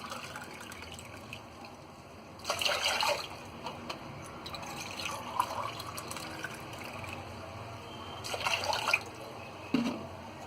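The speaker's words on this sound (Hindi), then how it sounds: "अब हम इसमें डालेंगे 2 गिलास पानी।" Two glasses of water poured into an aam ka panna mixture in a home kitchen, heard as two short splashing pours a few seconds apart over quiet background, with small drips between.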